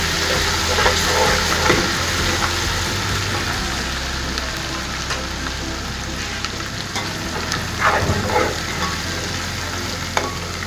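Ginger-garlic paste frying in hot oil for beef pulao, a steady close sizzle with occasional stirring scrapes and louder bursts.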